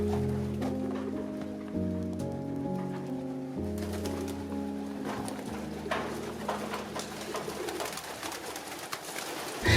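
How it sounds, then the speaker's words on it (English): Dozens of pigeons in an abandoned homestead coo in low, repeated calls, then wings flap and clatter in busy bursts, fairly close and with no talking. "Many dozens of pigeons flailing about."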